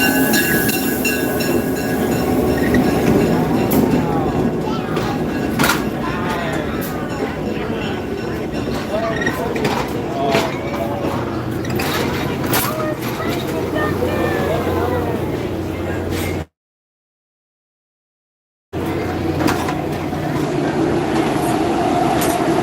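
A heritage railroad train at the Tennessee Valley Railroad Museum rolls steadily into a station, with a loud continuous rumble and wheel squeal close by and people talking over it.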